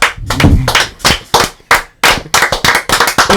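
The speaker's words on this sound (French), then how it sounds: "Est-ce qu'on peut réapplaudir Louise parce que je sens qu'elle est jalouse." A studio audience claps again in sharp bursts of hand claps, loud and close, with short gaps between rounds and a ragged rhythm.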